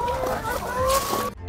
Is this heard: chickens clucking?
yes